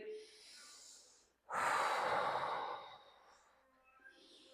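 A forceful exhale during a yoga flow: one loud, breathy burst lasting about two seconds, preceded by quieter breathing and followed by softer breaths, close to the listener.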